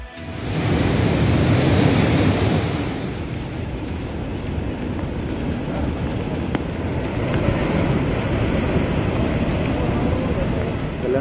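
Rough sea surf and strong wind along the coast of Alappuzha, Kerala, a dense continuous roar of breaking waves that swells louder early on, then holds steady.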